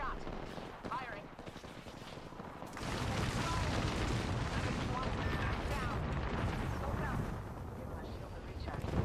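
Loud, sustained battle noise in the shooter game Apex Legends, with heavy gunfire and booming blasts merging into a dense continuous roar that swells and stays intense through most of the stretch.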